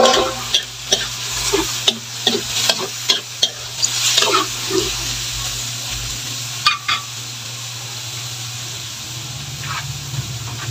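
Squid for spicy adobong pusit fries in a hot pan with a loud, hissing sizzle and a quick run of spatula knocks and scrapes in the first seven seconds, then settles into steady frying alone, close by.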